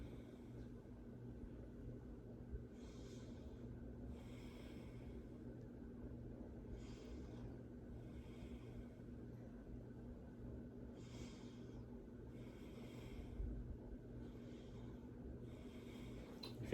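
A patient takes repeated deep breaths during lung auscultation, each slow breath rising and falling in a regular rhythm over a faint low hum, quiet and close.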